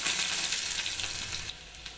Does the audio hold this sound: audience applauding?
no